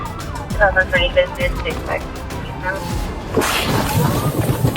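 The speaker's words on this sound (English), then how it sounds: "Sirens cut through the air" Wailing emergency sirens rise and fall over traffic noise, growing louder toward the end, with a voice heard faintly beneath.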